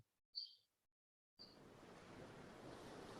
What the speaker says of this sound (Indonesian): Ini suara pantai ya.